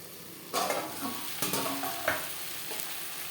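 Eggplant slices fry in a small amount of oil for begun bhaja. A low sizzle swells into several louder bursts of spatula stirring and scraping against the pan, then eases off.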